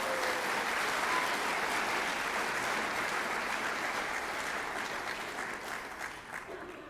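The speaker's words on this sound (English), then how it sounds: "please give a round of applause to all our Shawnee Students of the Month." Sustained audience applause at a school students-of-the-month ceremony, a dense steady patter of clapping from a seated crowd that slowly thins toward the end.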